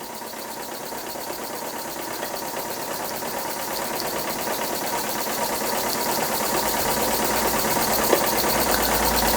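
An Empire B-30 model steam engine built mostly from scrap runs steadily with a fast, even mechanical chatter and hiss. It is close, grows slightly louder over the stretch and has one small click near the end.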